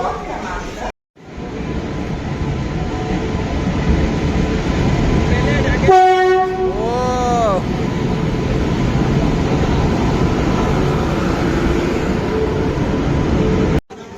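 A metro train passes loudly overhead with a steady rumbling roar that lasts the whole stretch, and a horn sounds clearly partway through.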